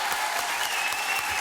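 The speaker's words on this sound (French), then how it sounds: "Applaudissements, mesdames, messieurs" A French TV studio audience claps steadily, a thick continuous patter of many hands at constant loudness with no voices over it.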